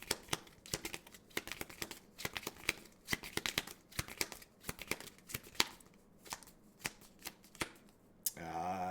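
Magic: The Gathering cards are shuffled in quick, crisp riffles and snaps, a rapid irregular series of sharp close clicks, with a voice speaking briefly at the end.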